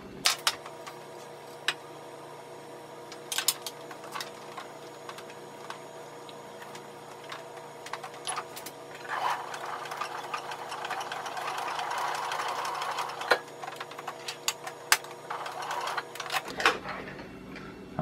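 A sewing machine puts a short lock stitch across the folded end of a shoulder strap for a folding table: scattered sharp clicks first, then a steadier run of close stitching mid-clip that stops abruptly near the end.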